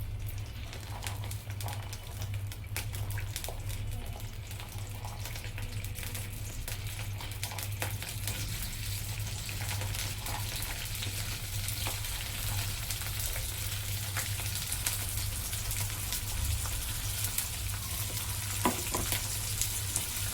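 Sliced onions frying in a couple of teaspoons of oil for a chicken curry, a steady, faint crackling sizzle with occasional light stirring ticks throughout.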